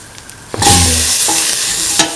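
Potato pieces, soy chunks and coconut milk being stirred in a pan, a scraping, sizzling mix that starts abruptly after a couple of faint taps, runs steadily and ends with a brief knock of the spoon.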